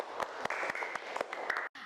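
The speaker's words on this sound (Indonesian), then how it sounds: "Ibu bangga sangat sama kalian, maka kita beri tepuk tangan bersama-sama" Schoolchildren applauding together in a classroom, a dense burst of quick, overlapping claps with a few sharper hits that runs steadily and then cuts off abruptly just before the end.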